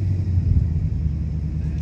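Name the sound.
Lightning swap truck engine cold start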